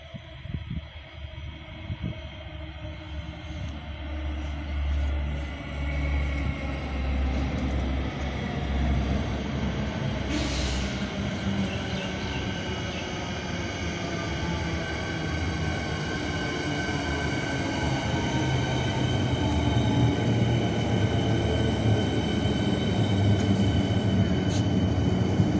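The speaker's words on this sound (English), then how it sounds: "After this should be the freight train" A freight train rolls steadily through McKinnon Station in Melbourne, a continuous loud rumble of wheels and wagons with squealing, rattling tones building throughout, no voices over it.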